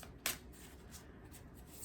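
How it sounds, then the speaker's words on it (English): A deck of cards gets a brief shuffle, one quick crisp riffle burst close by, then faint soft rustling in a quiet room. "So I'm giving these cards a good shuffle"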